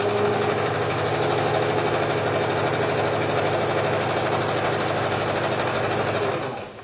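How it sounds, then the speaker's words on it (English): A sewing machine stitches log cabin quilt pieces with a steady, close mechanical whir and a fine rhythmic needle chatter that runs continuously and then fades out at the end, with no voices. "take a couple of stitches, leave the needle down"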